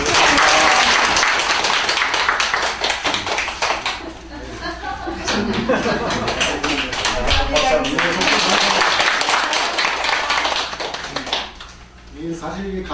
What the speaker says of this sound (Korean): 우리 박수 좀